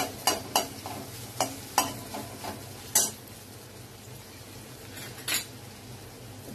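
Oil sizzling in a pan as katla fish frying in oil is stirred, with repeated sharp clinks of a metal spoon scraping, sometimes in quick pairs, over a low gas flame, no talking.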